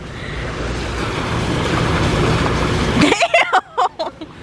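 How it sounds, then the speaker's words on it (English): Swimming pool water churns in a continuous broad splashing wash for about three seconds, then drops away as a few short voiced sounds or shouts follow in brief bursts. "Y'all gonna splash all the water out the pool."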